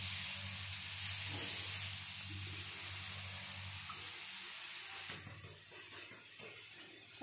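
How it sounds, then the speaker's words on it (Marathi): Thalipeeth flatbread cooking on a hot tawa griddle: a steady, loud hissing sizzle with a low hum beneath, easing slightly toward the end. "आणि आता हे तव्यावर टाकून घेत आहे मी."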